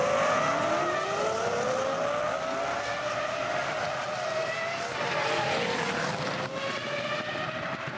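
A Formula 1 car at the 2004 Shanghai Grand Prix, with engine tones rising and falling in long sweeping whines over a constant race-track roar, several cars blending together at a distance.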